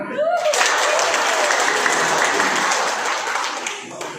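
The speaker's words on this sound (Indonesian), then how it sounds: "Coba tepuk tangan bareng" A room of teachers at a school-program session claps together in a dense, sustained burst that starts abruptly after a brief voice, stays loud for several seconds and tapers slightly at the end.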